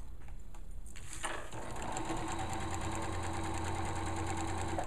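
A sewing machine stitches around the waistband of a pair of shorts. It makes a steady, close, fast mechanical whir with a rapid needle rhythm that carries on without pause after a few scattered clicks at the start.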